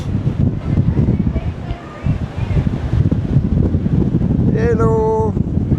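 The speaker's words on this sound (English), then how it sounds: "the wind blows like crazy" Strong gusts on the Malahat SkyWalk on Vancouver Island roar steadily and closely across the microphone, a constant buffeting rush, with a brief high whistling tone near the end.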